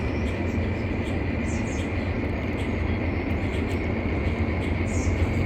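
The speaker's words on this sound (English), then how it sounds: "It's amazing how some trains seem so much louder than others." Continuous loud rumbling and roar from a passing train, heard at close range with a steady high whine and faint bird chirps above, with no voices.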